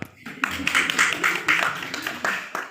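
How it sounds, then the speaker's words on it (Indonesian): An audience at a parenting talk claps in several uneven bursts, close and moderately loud, with a few individual hand claps standing out between waves. "Tepuk tangan dong."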